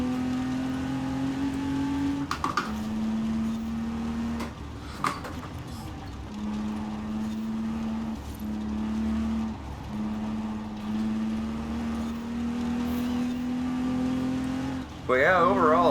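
A Lego Porsche engine drones steadily in Forza Horizon 4 racing gameplay, its pitch shifting through gear changes with a few sharp bumps and a quick whine near the end.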